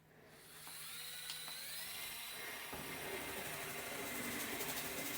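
A HippoBoss handheld electric tile and grout scrubber spins up and keeps running with a high-pitched, steady motor whine. It sits close and fairly quiet, with a slight rising buzz as it works along the tile.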